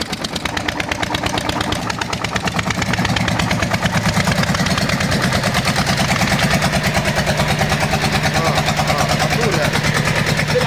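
A water pump motor runs close by with a steady, loud mechanical thrum and rapid pulsing chug that continues unbroken throughout.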